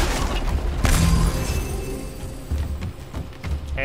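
A huge boulder bursts apart in God of War, a dense, crunching crash of breaking rock with booming low rumble, followed by scattered rubble clatter and a few sharper cracks over several seconds.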